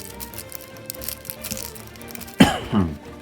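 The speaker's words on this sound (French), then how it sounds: "j'ai une petite toux en ce moment" A single sharp cough rises out of quiet background noise near the end, followed by a shorter throat-clearing rasp.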